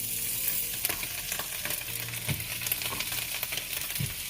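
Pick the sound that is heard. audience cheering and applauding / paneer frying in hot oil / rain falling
paneer frying in hot oil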